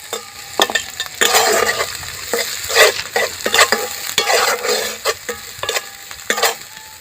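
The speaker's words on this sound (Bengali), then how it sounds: "এবারে দিয়ে দেবো আমি পেঁয়াজ কুচি আর দুটো কাঁচা লঙ্কা একটা পেঁয়াজ" Chopped onion and two green chilies fry with nigella seeds in mustard oil, a loud, close sizzle punctuated by frequent rhythmic spatula scrapes and stirs against the pan.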